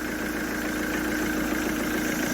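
A car engine, recently hydrolocked and running with no air filter, idles steadily with a rough, noisy, continuous drone, close by and with no talk over it.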